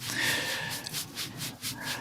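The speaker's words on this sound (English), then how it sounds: "just kind of rubbing the dollar bill together as a shaker sound" Soft, papery rubbing swishes of a dollar bill used as a shaker, in a loose rhythm, close up and fairly quiet, with no voices.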